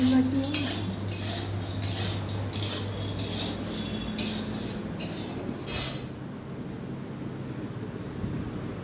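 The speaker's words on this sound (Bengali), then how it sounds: "তো বড়িগুলো ভাজা চলছে" Small lentil dumplings (bori) frying in a pan at home, with steady scraping and clinking of a spatula stirring against the metal over a low sizzle, continuous and close.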